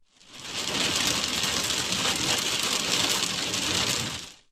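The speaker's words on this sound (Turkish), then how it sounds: "Ardahan'da şiddetli dolu etkili oldu." A heavy hailstorm in Ardahan, Turkey, pelting down as a dense, continuous roar of hard impacts, loud and steady, swelling in and fading out with no voices.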